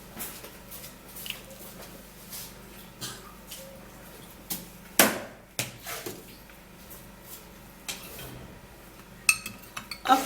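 A spoon stirs potato juice and starch in a bowl, producing soft, scattered clinks and taps against the bowl at an uneven rhythm, with a few sharper knocks over a quiet background.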